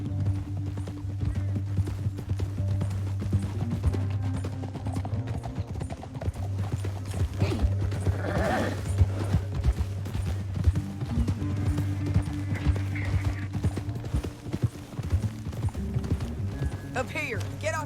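Horse hooves clip-clopping during a ride in Red Dead Redemption 2, a steady rhythmic beat under a low rumbling game soundtrack, with a brief whinny and faint chatter mixed in.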